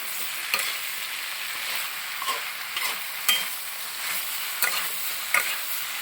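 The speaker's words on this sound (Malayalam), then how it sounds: "1 ബൗൾ കോളിഫ്ലവർ ഇട്ടോ. നന്നായിട്ട് ഇളക്കി കൊടുക്കും." Cauliflower and mixed vegetables are stirred in a pan for a vegetable kurma: a steady close sizzle runs throughout, broken by a handful of sharp, irregular spoon scrapes against the pan, with no voices.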